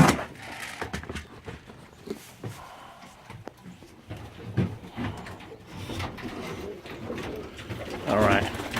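Homing pigeons coo in a loft, with soft repeated calls set among shuffling, clattering noises and a voice talking intermittently nearby.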